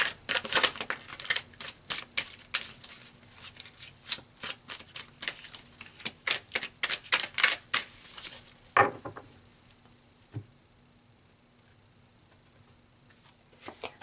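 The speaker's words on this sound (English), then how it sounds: "Let's pull some more cards here." Tarot cards shuffled and pulled from a deck: a quick run of crisp riffling flicks and snaps for most of the stretch, then a couple of isolated slaps as cards are laid down before near silence, close and fairly quiet.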